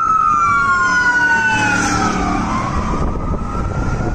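Emergency vehicle siren on a road in Canada, a loud continuous wail that sweeps down in pitch and stays steady, alone without talk.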